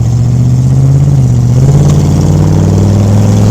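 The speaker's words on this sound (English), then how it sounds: "Second gear pull" A 1970 Ford Falcon engine revs hard through a second gear pull, a loud, close, sustained roar with a brief dip as the pitch shifts, then climbs again.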